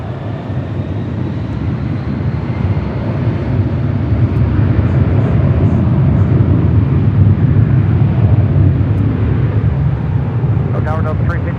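Delta Airlines Boeing 757-300 departing LAX on runway 24 left, a steady, loud jet roar rumbling continuously through the whole stretch and swelling slightly midway, with no voices over it.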